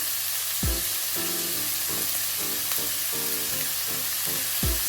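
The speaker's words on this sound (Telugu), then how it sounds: "ఆయిల్లో ఇప్పుడు మనం ఆనియన్స్ అండ్ గ్రీన్ చిల్లీ వేసుకుందాం." Onions, green chillies and curry leaves fry in hot oil with a steady loud sizzle, broken by a few clinks of a spoon stirring the pan.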